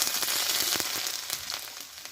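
A halved bay leaf and panch phoron spices dropped into hot oil, giving a soft, continuous hissing sizzle with faint crackles, quiet and close, without speech.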